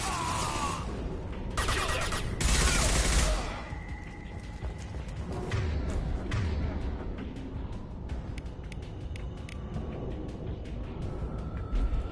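Gunfire in Mass Effect 2 crackles in scattered bursts and sharp bangs, a couple of heavier blasts early on, then lighter intermittent shots over a busy combat din.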